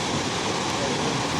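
Jog Falls in Karnataka roaring as a steady, loud, unbroken rush of falling water with wind buffeting the microphone.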